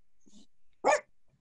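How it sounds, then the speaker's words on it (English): A dog lets out a single short, loud bark or growling yap indoors after a faint low rumble, then quiet follows. "You're going to hear my dog growling right now."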